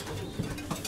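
Soft coos of racing pigeons, a couple of low murmuring calls, quiet and close in a brief moment.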